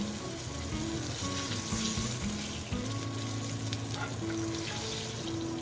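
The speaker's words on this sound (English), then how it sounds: "cook them for about 3 to 4 minutes per side, flipping over the pieces during cooking so they all get golden brown" Chicken pieces fry in oil in a pan with a continuous, fairly loud sizzle and crackle heard up close, alongside faint background hum, and nobody speaking.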